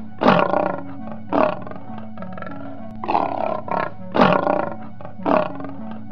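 A lion roars repeatedly, loud and close, in a series of deep, grunting bursts with short pauses between them and no voices.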